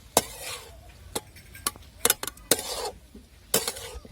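A spoon stirs fenugreek bhaji with masala in a pan, giving irregular metallic scrapes and clinks against the pan, fairly quiet and close, with no talk over it.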